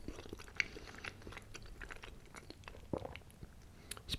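Close, quiet chewing of cheesy Boston Market corkscrew pasta mac and cheese, soft wet mouth sounds with scattered small crunchy bites and clicks spread irregularly, no talking.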